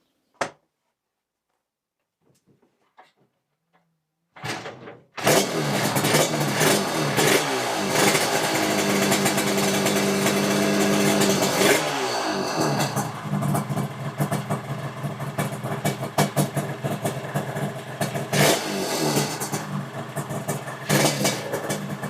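Twin-cylinder two-stroke engine of a Yamaha 350 RDLC motorcycle bursts into life on a test bench after a few quiet knocks, then revs loudly and continuously, the pitch rising and falling, close and alone.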